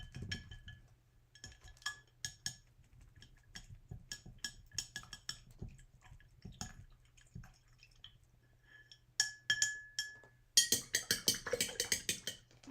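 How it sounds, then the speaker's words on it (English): Paint brushes rinsed in a glass of water while decorating gingerbread: light clinks and taps of bristles and handles against the glass, with soft drips and swishes, close and quiet, building to a brisker rattle near the end. "I'm just rinsing my brushes as I go."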